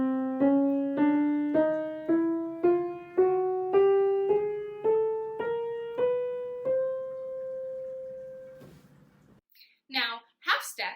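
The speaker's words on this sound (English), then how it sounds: "we have a chromatic scale that sounds like this." A chromatic scale played one note at a time, each half step plucked and left to decay in an even, slowly rising sequence, with a longer final note before a brief burst of speech.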